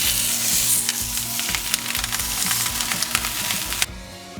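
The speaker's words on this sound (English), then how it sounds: "Saute the skin until crispy and golden brown, then turn and do the same to the second side." Pork belly lies skin side down in a hot pan, crisping with a loud, steady sizzle and crackle that stops abruptly near the end, with no talking.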